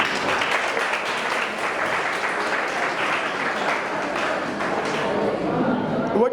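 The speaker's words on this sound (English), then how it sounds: "give yourself please one more time a nice and wonderful applause" An audience at an English club closing day gives sustained applause, a dense wash of clapping running evenly for several seconds with a few louder claps and cheers mixed in.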